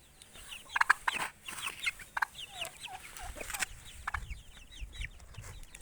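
Chicks cluck and peep in short, scattered calls, close by, with rustling and small thumps around them and no talking.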